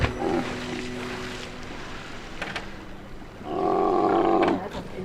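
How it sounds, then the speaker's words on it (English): Sea lions roaring and barking in Alaskan waters heard from a skiff, a low growling call early on and a louder, sustained harsh roar near the end over engine and water noise. "Sea lion."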